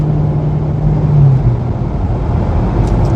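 A 5th gen Chevrolet Camaro SS drives along the road, heard from inside as a steady low engine drone and road rumble with a brief rise in pitch mid-way.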